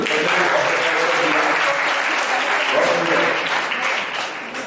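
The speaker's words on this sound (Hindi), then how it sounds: "तालियां बजा दीजिए।" An audience at a Vedic quiz competition bursts into steady, dense applause that fills the hall, then gradually tapers toward the end.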